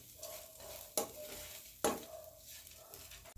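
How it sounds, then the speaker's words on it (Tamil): Grated coconut stir-roasted until golden in a pan for a Chettinad mushroom gravy, with soft steady sizzling and two sharp spatula scrapes against the metal, close and fairly quiet, no voices. "இந்த தேங்காயை ரொம்ப வறுக்க விட்டுறாதீங்க, இந்த கோல்டன் கலராக வறுத்துக்கிறோம்."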